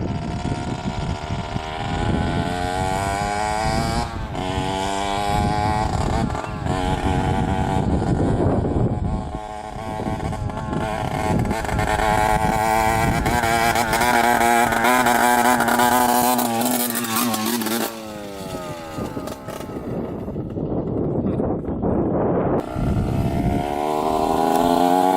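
A Yamaha YSR small motorcycle engine running too rich, revving and sputtering near and loud for about 25 seconds, pitch rising and falling with uneven throttle blips and brief dips.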